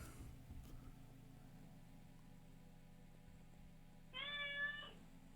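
A single drawn-out cat meow from the video game Panoptia, clear and fairly close, rises late over a steady low hum and faint background noise.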